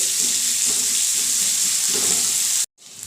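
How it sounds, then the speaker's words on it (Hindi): Onion, ginger and garlic fry in a pan with a loud, constant sizzle that cuts off abruptly near the end and then faintly returns. "1 मीडियम साइज़ का प्याज, 1 टेबल स्पून अदरक और लहसुन कूटा हुआ। इन सब चीज़ों को हम हल्का golden brown, light golden brown भूनकर रेडी कर लेंगे"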